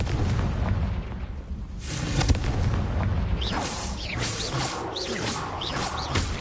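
Fire spell blasts in Hogwarts Legacy, the video game, with a run of booming explosions and crackling bursts over a dense, loud layer of game action and rising whooshes, with no voices.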